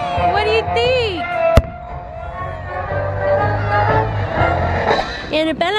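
Fireworks go off outdoors with a sharp loud bang near the middle, under steady crowd noise, children's excited voices and adults talking throughout.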